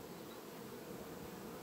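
A honeybee swarm returning to the hive it left, giving a continuous, dense, steady buzzing drone with no pauses, close and even throughout.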